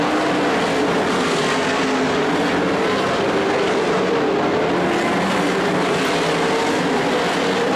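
A pack of 360 sprint cars roars around an oval track in a continuous, loud, droning wash of engine noise, with the pitch sweeping slightly as the cars circulate.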